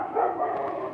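A dog barks once or twice at a distance, muffled under a steady droning background during a brief, faint moment.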